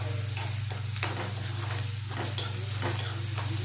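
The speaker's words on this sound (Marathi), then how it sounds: "कांदा लाल होईपर्यंत परतून घ्यायचा।" Onions with green chili sauté in a hot pan, a close steady sizzle broken by repeated scraping stirs.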